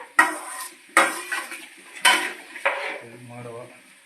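A utensil scrapes and knocks against a pan as onions are stirred while frying, four distinct clanks in a loose rhythm with a faint sizzle underneath, close and fairly loud.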